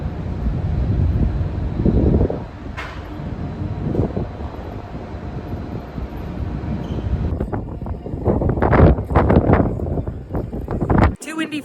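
Wind buffets the microphone outdoors on a walking track with a steady low rumble, gusting louder toward the end, while people talk intermittently underneath.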